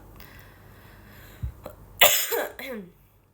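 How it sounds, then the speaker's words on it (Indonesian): A young woman on a live stream gives a couple of sharp, dry coughs without phlegm, close to the microphone, followed by a brief breathy sound, in an otherwise quiet room. "kayak batuknya tuh kayak nggak ada dahaknya gitu loh, kayak kering banget"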